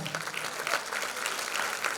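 Steady audience applause at a choir concert, a continuous dense patter of many hands clapping at even loudness throughout.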